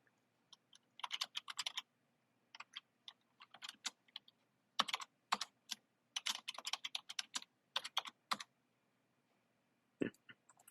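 Typing on a computer keyboard in quick irregular bursts of crisp, close clicks separated by short pauses, with no talk over it.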